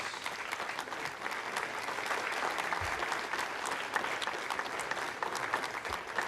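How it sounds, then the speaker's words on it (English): A room of people in mission control breaks into sustained applause after the GSAT-10 satellite separates from its Ariane launcher, a dense and steady clapping that holds at an even level throughout. "And the applause."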